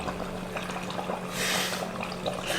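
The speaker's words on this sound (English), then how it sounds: "Oh, it's bubbling." Cannoli dough bubbling and sizzling in hot frying oil, a steady crackling wash of frying noise that swells briefly in the middle, close and fairly loud.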